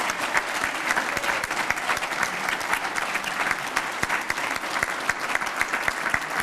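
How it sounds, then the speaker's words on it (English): A dinner audience gives loud, sustained applause for the 2012 Teachers of the Year, dense clapping with many distinct sharp hand strikes that carries on evenly throughout. "So can I please have a big round of applause for all our 2012 Teachers of the Year."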